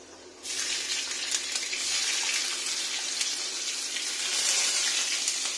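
Panch phoron and chopped onion fry in hot oil, a loud, steady, bright sizzle that bursts in just after the start and holds evenly to the end, with no voices.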